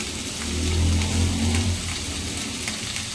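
Spices sizzling in hot oil over a slow flame for Odia raw mango chutney, a steady, close crackling fry with a low hum underneath and no talking.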